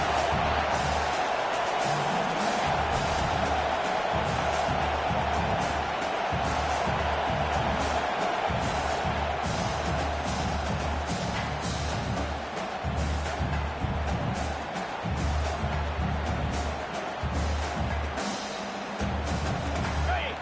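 Simulated stadium crowd roaring steadily during an Alabama versus Tennessee game in College Football 25, a continuous broad wash of crowd noise under play-by-play commentary.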